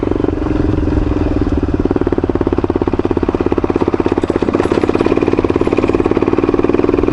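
A motorcycle engine runs close and loud on Tusquittee Road, its rapid, steady pulsing beat holding firm with slight swells as the throttle and clutch are worked.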